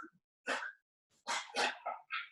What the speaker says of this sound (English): I think my dog's choking.